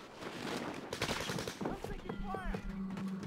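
Gunfire in a multiplayer shooter video game, a quick flurry of rapid shots heard at moderate distance and fairly faint, mixed with other game sounds and a player's voice.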